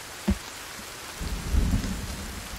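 Rain falls in the survival video game Sons Of The Forest while a sharp thud of thunder lands early, followed by a deeper rolling rumble swelling beneath the steady downpour, with no voices present.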